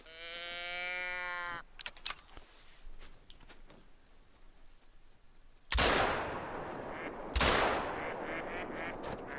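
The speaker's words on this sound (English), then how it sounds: "I decided to put 2 shots into him." Two loud, sharp blasts from a 12-gauge shotgun firing buckshot at a whitetail deer ring out about a second and a half apart, each followed by a long echoing decay, after a brief tonal call at the start and a quiet outdoor stretch.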